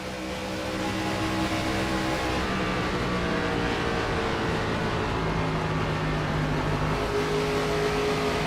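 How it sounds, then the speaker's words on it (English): A NASCAR-style stock car engine in a racing video game at Auto Club Speedway holds a loud, steady drone. Its pitch sags as the throttle eases through a corner, with no voices. "Listen to the engine here for a second."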